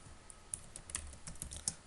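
PHP code typed on a computer keyboard: soft, irregular key clicks in a quiet room, close and faint.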